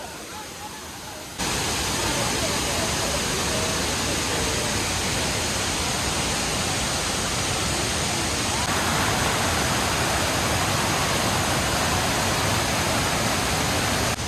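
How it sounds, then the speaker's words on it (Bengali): A stepped waterfall in Laos cascades down in tiers, a loud, steady broadband roar of rushing water that fills the scene continuously after a brief quieter start. "জলের ধারা যখন মাটিতে পড়ছে তখন কিন্তু অনেকগুলো ধাপে ধাপে বয়ে চলেছে"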